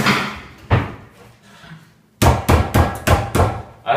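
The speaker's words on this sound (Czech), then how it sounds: "Já tady mám připravenou na klepání paličku" A meat mallet pounds meat on a kitchen board: one solid thud, a pause, then a quick run of five heavy, evenly spaced blows, loud and close.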